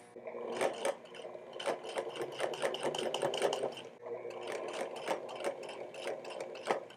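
A sewing machine top-stitches the sleeves of a bomber jacket made from heavy couch fabric, giving close, uneven bursts of rapid needle ticking broken by short pauses and rubbing of the fabric.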